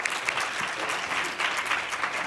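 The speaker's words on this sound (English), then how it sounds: "So can we give a round of applause for Peter Greenhouse" Steady, dense audience applause for Peter Greenhouse in a university lecture theatre, a full room clapping continuously at even loudness throughout.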